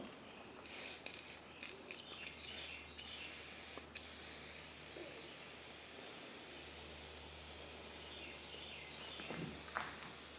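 Short bursts of spray paint hiss at the start, then a long steady spray with soft, light pressure, fairly close, misting a carved wooden Native American bust.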